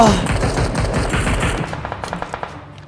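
Rapid automatic gunfire from the mobile shooter game PUBG Mobile, a loud, fast burst of shots that thins into sparser, quieter single cracks, with a voice talking over it.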